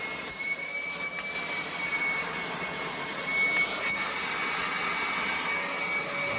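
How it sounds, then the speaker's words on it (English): An EGO cordless 56V wet/dry vacuum sucks up large chunks of foam insulation, a steady high whirring rush with a thin whine held throughout at moderate level, with no talking. "Some pretty large chunks of foam insulation going up through there, clogging up a little bit on the tip."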